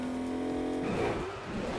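A car engine in the video game Agents of Mayhem drones steadily, then breaks into a burst of crashing and rumbling as the car smashes through obstacles.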